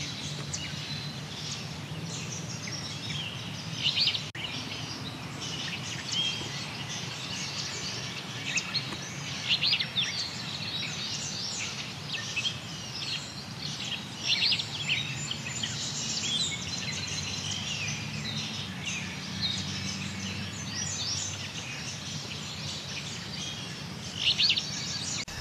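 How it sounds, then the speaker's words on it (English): An alder flycatcher sings from distant thickets beside a wet meadow, giving short, faint, scattered phrases at intervals over a steady outdoor hiss with other soft bird and insect sounds. "Listen for the alder flycatcher singing from the thickets back there."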